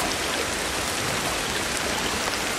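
Steady, dense rain falls in the video game Ancestors: The Humankind Odyssey, a continuous close hiss with no pauses and no voices.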